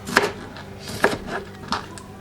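Knife chopping jalapeno peppers on a cutting board for sofrito, three or four distinct, close, sharp chops spaced about half a second apart, with no talk.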